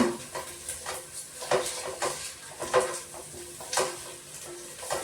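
A tomato rice mixture is sautéed in a pan, with a continuous sizzle broken by regular, rhythmic scrapes and knocks of stirring against the pan.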